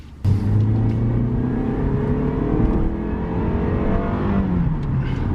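A Lexus IS300 engine accelerates hard, its pitch climbing steadily in a continuous rising whine, loud and close, with no talking.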